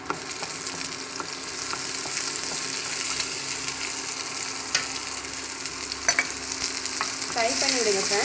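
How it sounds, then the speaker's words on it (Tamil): Steady sizzling of onions sautéing in oil in a pan for red poha upma, with occasional stirring clicks and a brief scraping near the end; no voices. "ஃப்ரை பண்ணி விடுங்க சார், நல்லா வதங்கட்டும்."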